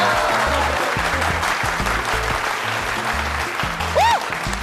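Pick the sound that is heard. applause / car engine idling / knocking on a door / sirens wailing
applause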